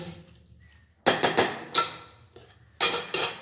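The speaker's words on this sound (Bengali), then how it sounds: "এখন আপাতত গ্যাস পরিষ্কার করি" Cleaning a gas stove brings a series of sharp metallic clanks and scrapes, loud and close, coming in irregular bursts with quiet gaps between.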